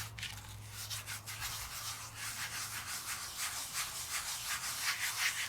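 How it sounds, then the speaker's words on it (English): Micro fine dark pink glitter rubbed by hand across light pink card stock, a steady close brushing and scratching texture with rhythmic strokes throughout, no voices. "Now all I have to do is start rubbing it all around."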